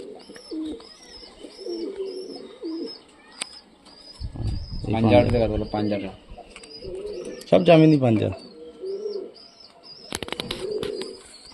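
Punjabi breeding pigeons, hens among them, coo in soft repeated rolls up close, with light chirps and a flutter of wings, while someone talks over them in bursts.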